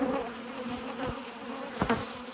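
Honey bees buzz around a hive during a late-season inspection, a loud, continuous droning hum close by with individual bees passing the microphone.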